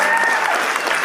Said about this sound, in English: Can we have a big round of applause for our MCs for this evening?